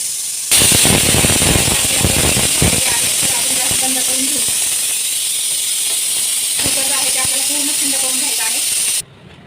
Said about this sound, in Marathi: तर कुकरचे आहे ते आपण एक शिट्टी काढून घेणार आहोत.